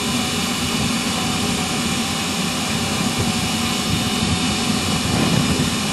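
A KM International LB2-16 portable infrared asphalt heater running on its on cycle gives off a steady, broad roaring hiss at constant loudness throughout, with no talk over it.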